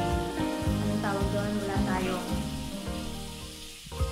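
Aninikad ingredients sauté in hot oil, crackling and sizzling loudly at close range with clattering stirs and scraping throughout.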